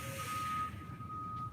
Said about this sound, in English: That is the garbage collecting truck.